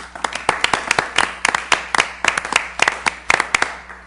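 A small group at an audit committee meeting claps, producing sharp, distinct hand claps in an uneven, sparse rhythm, close and clear against a quiet room with a low hum.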